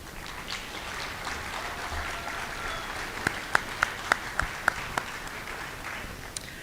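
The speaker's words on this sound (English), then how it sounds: "please give yourselves a round of applause" Ceremony audience applauding at a college honors day award event, a soft, continuous patter of clapping with a few sharp, louder nearby claps standing out midway.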